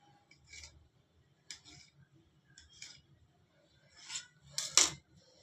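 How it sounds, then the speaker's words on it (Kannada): Rolled chapati dough being cut into rounds for bakery-style tea puffs: a handful of short, close scraping clicks and light taps, spaced irregularly, with one sharper, louder scrape near the end. "ಇದು ರೌಂಡ್ ಶೇಪ್ ಒಳಗಡೆ ನಾವು ಕಟ್ ಮಾಡ್ಕೊಳ್ಳೋಣ"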